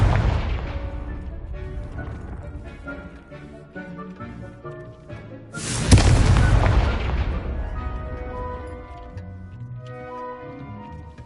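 Spell blasts from the Confringo curse in Hogwarts Legacy ring out amid swelling game music, with a loud booming burst near the middle that rumbles and fades over several seconds.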